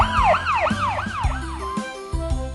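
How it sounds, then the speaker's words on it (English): A police car siren wails in rapid, repeating rising and falling sweeps, loud and close, with lower engine-like rumble beneath and no speech. "police car"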